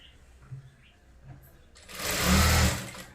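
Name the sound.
sewing machine stitching a blouse seam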